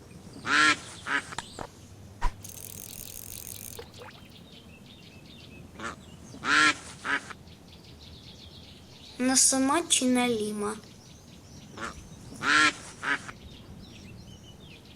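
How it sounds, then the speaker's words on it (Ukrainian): Several ducks quack loudly in short, scattered bursts outdoors by a fishing spot, with someone speaking briefly between them. "Ну, качечки тут гарні."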